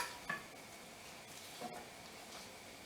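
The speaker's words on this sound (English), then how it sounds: "So we're going to go ahead and saute these." Peppers sautéing in a cast iron skillet give a steady, soft sizzle, broken by a few faint stirring scrapes and light clinks, with no talking.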